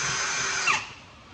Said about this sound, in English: You put your big drill bit in. You'll come right in the hole. Drill the hole out.